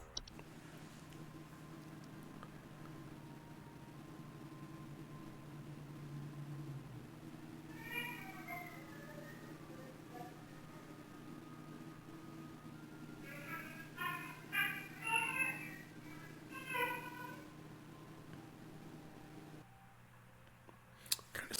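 A supernatural singing false flower gives off a strange, cat-like meowing, heard in short warbling bursts over a faint hum, with quiet stretches between.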